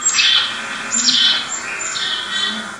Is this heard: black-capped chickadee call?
yes